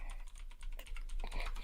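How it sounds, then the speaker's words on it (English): A loud computer keyboard clatters with rapid, continuous keystrokes, close and sharp, in a podcast recording setting. "My keyboard is loud as shit."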